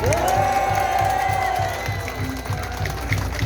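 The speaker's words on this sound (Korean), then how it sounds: "다시 한번도 이명호 후보님께 또 그 형수님께 사모님께 감사와 존경의 박수를 해주시기 바랍니다." A crowd at a Korean political party leader's speech applauds and cheers, with a sustained wash of clapping, a rising shout or whoop early on, and scattered voices in the mix.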